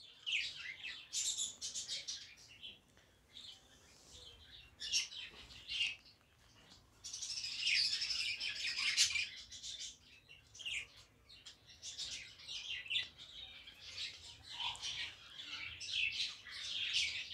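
Budgerigars, an adult feeding a chick, chirp and twitter in close, busy bursts of high tweets and squawks, continuous and varied in loudness with no talking.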